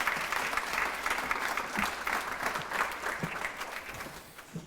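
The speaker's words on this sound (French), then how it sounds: "Une bonne main d'applaudissements pour Claudia." Steady crowd applause at a festival event in Charlevoix, sustained clapping from many hands filling the clip, fairly even and moderately loud throughout.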